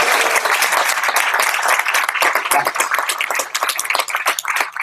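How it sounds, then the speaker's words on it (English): An audience at a meeting bursts into a loud, sustained round of applause, with dense clapping that stays strong and then thins slightly toward the end. "You missed your big round of applause. In fact, can we do it again?"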